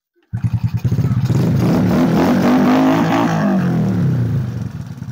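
Motorcycle engine starting and revving, a sudden loud onset followed by a steady close rumble that holds for several seconds and then eases slightly.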